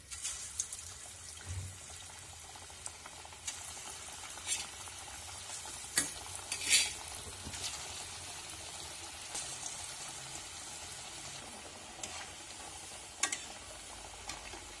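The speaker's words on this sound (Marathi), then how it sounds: "तेल आता तापत आलेले आहे. मी तर थोडंसं पीठ घालून बघते. एक एक डाळ वडा सोडून घेऊया." Dal vadas sizzle quietly in hot oil, a faint steady frying hiss with occasional soft clinks and splashes as each one is slipped in, close but low in level, no voices.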